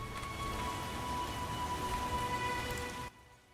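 Steady rain pours in a town in the video game The Witcher, a dense continuous hiss of drops on surfaces that runs loudly and evenly before dropping away near the end.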